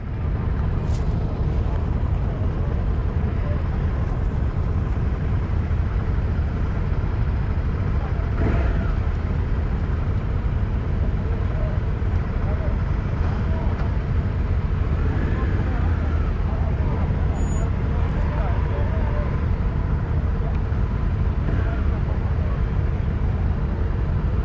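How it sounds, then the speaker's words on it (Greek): Steady, loud engine drone from many motorcycles gathered for test rides at an adventure motorcycle meeting in Lavrio, a continuous close rumble with a voice talking over it. "Γίνεται ένας χαμός εδώ, πολλά μηχανάκια."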